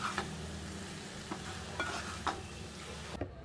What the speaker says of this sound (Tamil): உருளைக்கிழங்க இப்போ கிளறி வைக்கலாம்.